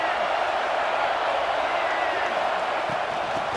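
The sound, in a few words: stadium crowd at a football game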